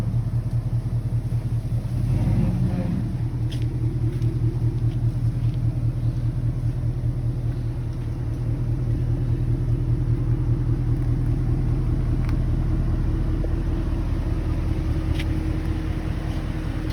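A car idles with a low, steady engine rumble inside a garage while backing up, close and continuous with a slight swell partway through and faint clicks above.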